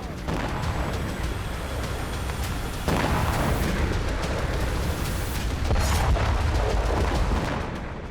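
Explosions from Israeli air strikes on Beirut, Lebanon: heavy, rumbling booms arrive one after another over a constant roar of background noise, with no clean break between blasts.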